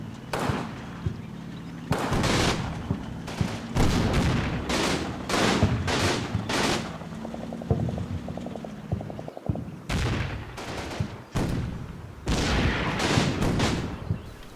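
Gunfire in the Combat Mission WWII video game rattles in repeated bursts of sharp shots, loud and close, with brief pauses between volleys and a quieter stretch of rapid automatic fire in the middle.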